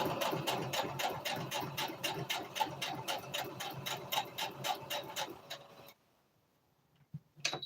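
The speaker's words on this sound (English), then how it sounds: "let me sew as close as I can up here to this top knot" A sewing machine stitches a twist turban hat close to its top knot, a fast, steady run of close mechanical ticks for about six seconds before stopping, then a single faint click.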